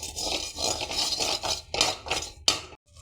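Metal utensils clink and scrape against dishes as roasted tamarind is moved into another vessel, a run of sharp, close, irregular clatters ending in a brief pause.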